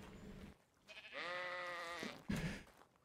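A single sheep in a pen in a video game lets out one drawn-out, wavering bleat, quiet and clear, followed by a brief rustle.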